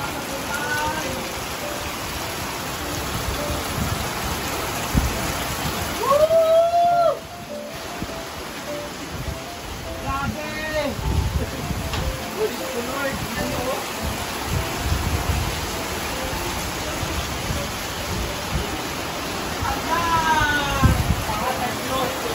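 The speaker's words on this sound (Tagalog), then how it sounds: "Grabe ang lakas ng ulan" Heavy rain pours down on a farm in a dense, steady roar, with voices talking and exclaiming over it.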